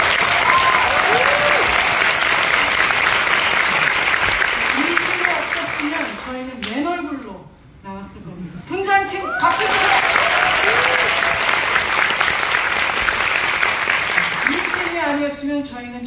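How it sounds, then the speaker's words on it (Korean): A theater audience at the final-show curtain call of the musical Four Minutes applauds the lighting crew, loud sustained clapping that dips briefly midway while a voice speaks, then surges back to full strength. "조명팀 박수 주세요"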